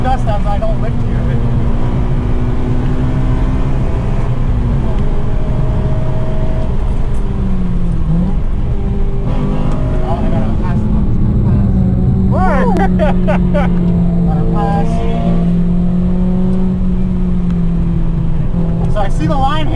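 An 8th-generation Honda Civic Si is driven hard at Calabogie Motorsports Park, its engine droning loud and steady with rising and falling pitch as it revs, while someone talks over it.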